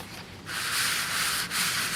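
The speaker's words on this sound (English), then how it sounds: "here we got different grades of sandpaper" Sandpaper rubs steadily over a metal part from a 1971 Johnson 4hp outboard motor in a figure-8 pattern, a close, continuous gritty scraping that starts after a brief quiet moment and pauses once near the end.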